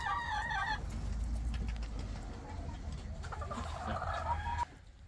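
Chickens cluck and a rooster crows inside a farm chicken coop, several close, busy calls rising and falling over a steady background rumble.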